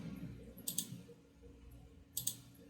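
Two quick pairs of sharp computer mouse clicks during an online account registration, close and distinct over a quiet low room hum, with no talking.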